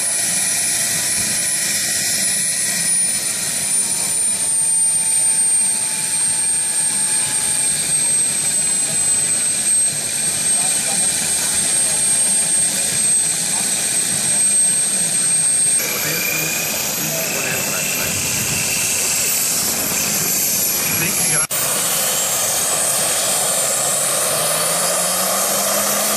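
A model Cessna's engine drones steadily throughout at an airfield flight show in Hohenems, a constant whine with a pitch shift midway as the aircraft lands with flaps set, while a commentator talks over it.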